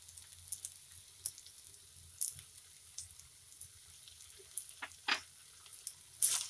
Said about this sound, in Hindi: सारे मसाले को मिला के अच्छे से भून लेंगे।